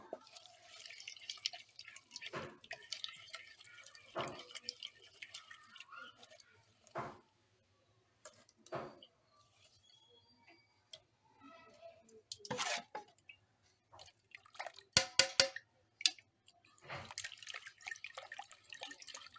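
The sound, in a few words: straining placali cassava dough through a sieve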